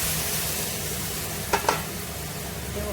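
Masala with a little added water simmering and frying in a pan, a steady bubbling hiss with two quick stirring scrapes partway through.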